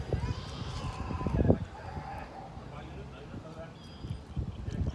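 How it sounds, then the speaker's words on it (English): Chickens cluck and a rooster crows in the background while people talk nearby; the bird calls are moderately loud and intermittent. "There's my birds."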